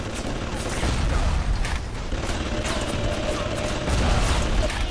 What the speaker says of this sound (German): Hier schießt auch noch irgendein MG-Turret.